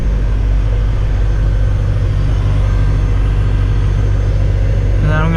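A Deatschwerks 200 high-flow in-tank car fuel pump runs while the car tries to start, a steady, loud mechanical hum and whine filling the whole stretch without a break.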